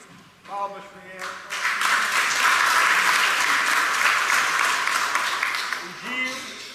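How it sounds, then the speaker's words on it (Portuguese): A short spoken introduction gives way to hearty, sustained clapping from the congregation in a church during a solemn First Communion, holding steady for several seconds before fading as a voice returns. "A Camila, palmas para ele."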